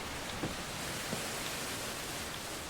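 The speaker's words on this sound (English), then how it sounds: "Just listen to the rain." Steady, dense rain in a video game hisses continuously, with a couple of faint drip-like taps standing out from the wash of noise.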